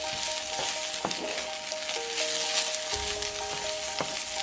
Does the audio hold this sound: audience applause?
no